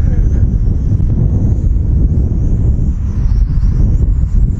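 Wind blowing hard around an entry-level FPV quadcopter during a windy test flight, heard as a constant loud low rumble and buffeting of wind on the microphone throughout.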